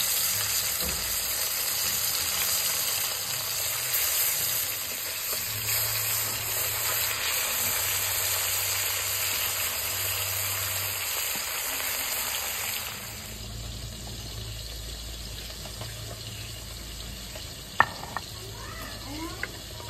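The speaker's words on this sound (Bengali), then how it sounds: "বাকি মাছটা আমি ভেজে নিচ্ছি।" Fish fries in oil in a pan with a steady sizzle and crackle that softens partway through, followed by a few sharp clinks of a utensil at the end.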